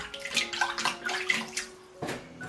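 Running water from a tap splashes over sand ginger pieces as they are rinsed clean, a close, moderately quiet spatter with small bursts and a brief pause near the end.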